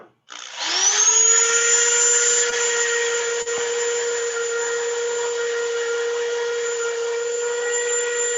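A high, steady whine of power sanding on a wood lathe spins up quickly and holds a constant pitch, loud and close, with a brief dip partway through.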